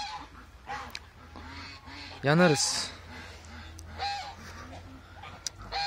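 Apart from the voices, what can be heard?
young male geese honking loudly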